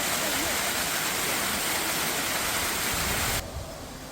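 The wish waterfall at Eunjinsa temple in Gijang, Busan, roars as a dense, steady rush of falling water close by, then drops abruptly to a softer wash near the end.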